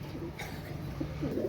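A pair of fancy Pakistani teddy pigeons coos softly, a few low burbling calls rising over steady faint background noise, close by.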